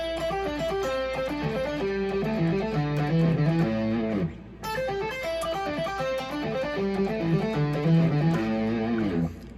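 Electric guitar plays a pentatonic two-string sequence riff, quick repeating note patterns cycling up and down in clear phrases, played twice with a brief break between, close and clean, no speech.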